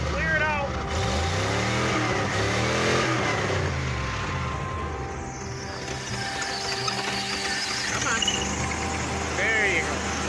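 A Jeep engine warms up after a cold start. It revs up and down in several swelling pulls, then settles into a rougher idle between blips.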